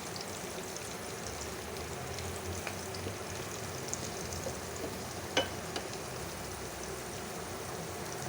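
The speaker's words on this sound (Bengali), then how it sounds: "ঠিক এইভাবে ভেজে নেব।" Elephant foot yam fries with spices in a pan for a meat curry, giving a soft, steady background sizzle with an occasional faint scrape or clink of stirring, and no voices.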